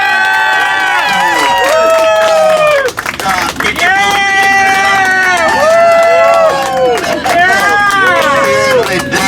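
A restaurant audience at Disney World's Jungle Navigation Co. Skipper Canteen claps and cheers in a sustained burst of applause, whoops and laughter, loud and close, mixed with crowd chatter.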